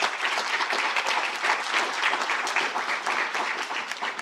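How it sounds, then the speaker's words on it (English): Audience at a PHSU School of Medicine ceremony in the British Virgin Islands applauds steadily, a dense, even wash of clapping hands that carries on without pause and without talk. "I would like you to clap your hands for the family that is here today."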